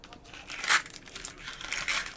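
Plastic wrapper of a candy package crinkling and tearing as it is pulled open by hand, a close, quiet run of crisp crackles with a couple of sharper rips.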